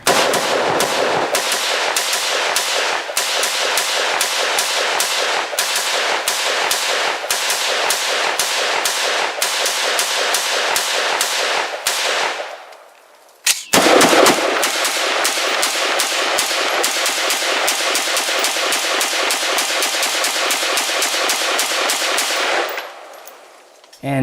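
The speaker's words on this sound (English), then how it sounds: "And since an MR556 was available, we went out and shot both." HK MR556A1 and Wolf A1 T91 rifles firing rapid strings of loud, close gunshots in two long sustained bursts separated by a brief pause.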